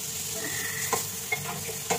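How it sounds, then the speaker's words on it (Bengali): Pointed gourd (potol) frying with whole chillies in a pan gives a steady, close hiss of sizzling oil, with a few sharp spatula scrapes and clicks as it is stirred. "পটলটা আমার ভাজা হয়ে গেছে, কষানোটা হয়ে গেছে"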